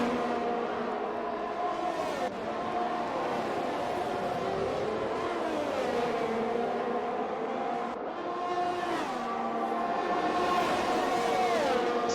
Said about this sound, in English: Ferrari getting past the Alfa Romeo there